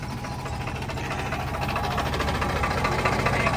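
Deutz-Fahr 70 hp tractor, power-upgraded with water-ballasted tyres, with its diesel engine running in a steady, close, throbbing drone that rises slightly, no talking.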